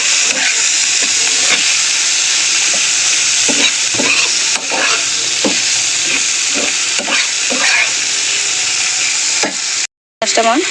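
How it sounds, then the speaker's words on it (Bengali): Medium-sized prawns frying in a pan, a loud, continuous sizzle and hiss with repeated scraping stirs, close up and without speech, ending in a brief dropout. "তো চিংড়ি মাছগুলো এখন একটু ভেজে নেব"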